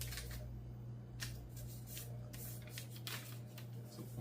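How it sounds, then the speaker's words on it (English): Sheets of origami paper being folded and creased by hand, producing soft crinkling and rubbing rustles in short bursts over a steady low electrical hum, fairly quiet and close. "From this direction, I will just fold over one portion"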